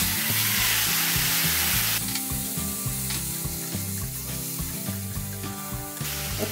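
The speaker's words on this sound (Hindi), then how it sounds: "और फिर ये सारे खड़े मसाले थोड़ा सा भून लेंगे और अब डाल देंगे कटे हुए लाल टमाटर" Chopped red tomatoes drop into hot oil with whole spices, setting off a loud, steady sizzle and frying hiss that continues close up with slight stirring changes and no talking.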